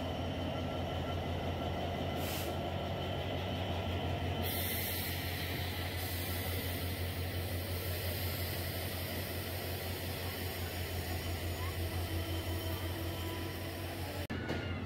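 Banglabandha Express, bound for Rajshahi from Panchagarh, standing or rolling at Natore railway station, giving a steady broadband rumble and hiss of train carriages throughout, with a few higher whooshes and no talk.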